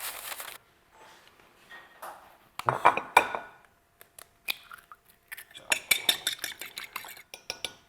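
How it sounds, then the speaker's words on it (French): Homemade breading mix with curry is poured onto a plate for nuggets, giving scattered rustling and clinking bursts of dry crumbs and utensils against dishware, close and fairly loud, with pauses between. "On verse tout dans une assiette."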